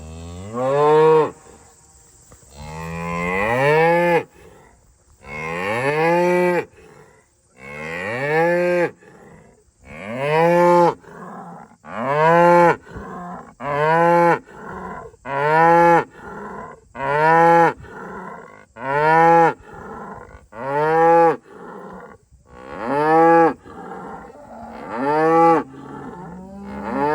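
Black Angus cows moo loudly and repeatedly at close range, a long series of drawn-out bellowing calls with short gaps between them and no talk over them.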